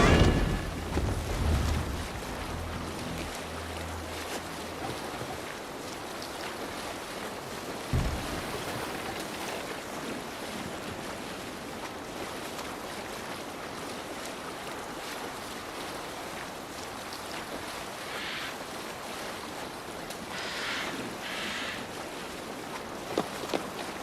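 Broad wash of sea water and wind surrounds a rowed Viking-style boat heading out to sea in Assassin's Creed Valhalla, a continuous rushing noise with occasional splashes and faint low thumps, no speech.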